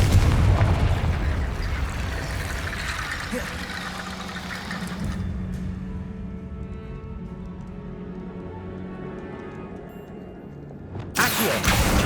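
A Confringo explosive spell cast in Hogwarts Legacy gives a burst and rumbling blast amid game effects, followed by a lingering low tone and a sharp loud crack near the end.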